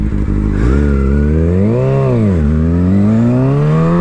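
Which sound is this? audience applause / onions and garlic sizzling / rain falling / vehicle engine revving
vehicle engine revving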